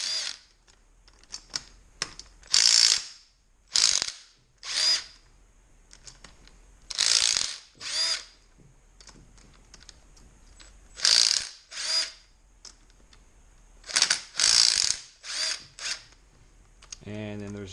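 A ratchet or power driver spins bolts out of a Honda 300ex engine top end in repeated short whirring bursts, about a dozen, each separated by quiet pauses and light clinks.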